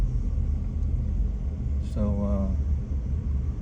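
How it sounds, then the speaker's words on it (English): A car passes behind a person standing at a waterfront park during Tropical Storm Nicole, giving a steady low rumble throughout, with a brief spoken word over it. "a car behind me"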